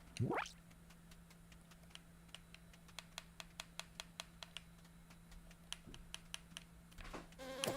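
Mosquitoes in the video game LittleBigPlanet 3 buzz faintly under a steady low hum, punctuated by a rapid series of sharp ticking clicks and a rising sweep at the start, quiet and without speech.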